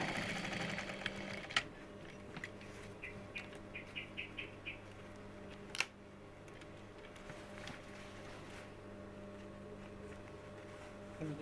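Sewing machine stitching the waistband of a skirt, its quiet steady motor hum running under the whole stretch with a few small clicks and taps, no talking over it.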